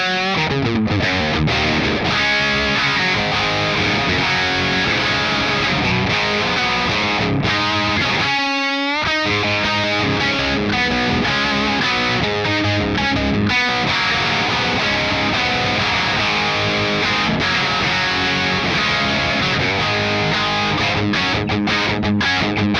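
Electric guitar with newly fitted EMG pickups played through the distortion channel of an Orange Rockerverb amp with no pedals engaged: loud, saturated riffs and sustained chords, with a brief gap midway and no talking.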